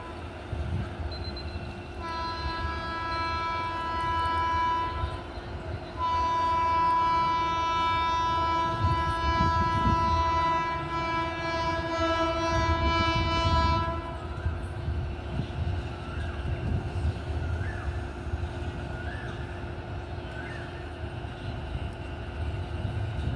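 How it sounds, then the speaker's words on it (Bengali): Dhanbad–Howrah Coalfield Express passing through Dankuni Junction at about 130 km/h: a loud, continuous roar of wheels and wagons runs throughout, with a long sustained horn blast sounding over it midway. "সামনে আসছে ধানবাদ হাওড়া কোলফিল্ড এক্সপ্রেস।"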